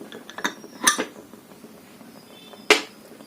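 Metal clanks as the weight is lifted off a pressure cooker lid: a few sharp, close clinks and taps, with one loud metallic knock near the end and quiet between.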